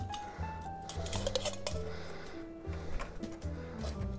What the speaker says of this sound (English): putting your strainer and your fine strainer and pouring through